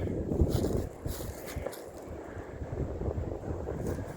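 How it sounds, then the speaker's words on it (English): Wind buffets a microphone outdoors, making low, rumbling gusts that swell and ease over a few seconds, with no talking. "Like I said, the wind picked back up now."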